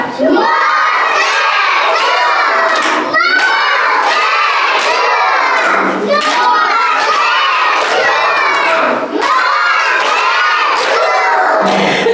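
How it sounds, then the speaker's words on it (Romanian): A group of kindergarten children at a festive matinee shout together in loud, repeated bursts of cheering, rising and falling in several waves over a sustained crowd roar. "Haideți să strigăm!"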